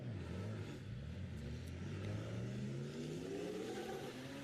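A drift car at a British Drift Championships pro battle at Three Sisters launches off the start line, its engine note climbing steadily as it accelerates away, heard from a distance.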